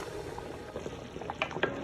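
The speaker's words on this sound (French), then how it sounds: "Et je remue bien." Groundnut sauce with chicken bubbles softly in a pot as it is stirred, with faint scraping and gentle liquid burbles, quiet and close.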